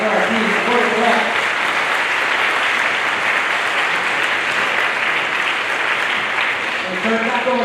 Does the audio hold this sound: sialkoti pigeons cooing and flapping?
no